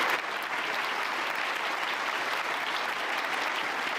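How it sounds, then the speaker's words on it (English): Sustained applause from a large audience in a conference hall during a security conference speech, a steady dense wash of clapping that holds at even loudness from start to finish with no talk. "Oh, a standing ovation."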